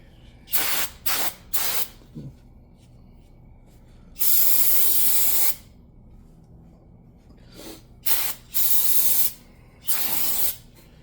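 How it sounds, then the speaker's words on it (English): Short bursts of aerosol cleaner spray hiss close by on a car's wheel hub area, three quick blasts, a longer sustained spray, then several more bursts with brief pauses between. "Nice little splatter spray of everything."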